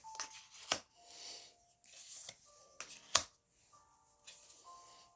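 A deck of tarot cards with smooth cardstock is riffled and shuffled in quick bursts, crisp flicks and taps coming close up between short pauses in a quiet room.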